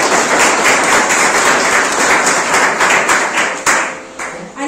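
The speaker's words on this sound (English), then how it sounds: "Let us have a round of applause." A loud, close round of applause at an Indo-Russian literary meet at an institute of science and technology, many hands clapping in a dense, even patter that continues throughout before briefly tapering near the end.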